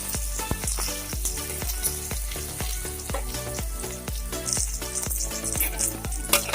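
Chopped onions sizzle and fry in hot oil for a fish curry with mustard and greens, a steady loud crackle with regular stirring scrapes throughout, no voices.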